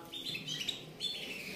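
A rare bird at a bird dealer's gives a few quick, faint, high chirps in a short burst, with no other sounds around.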